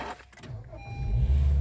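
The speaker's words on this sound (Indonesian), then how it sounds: "sekarang kita nyalakan mesinnya" A 2015 Honda HR-V E automatic, started by its push-button start-stop, gives a short starter whir and then settles into a close, steady low idle.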